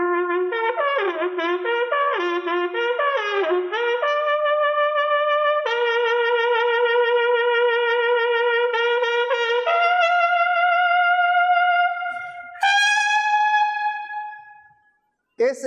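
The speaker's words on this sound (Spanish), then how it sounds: "Ese es un sonido de trompeta que va ¿a dónde?" Solo trumpet sounding a martial call to war, quick tongued repeated notes at first, then long sustained tones climbing to a high held note before fading out, played close and loud with no talking.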